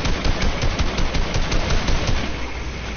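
Rapid automatic gunfire in a zombie video game, a steady rattling stream of loud, close shots firing in quick succession with no speech over it.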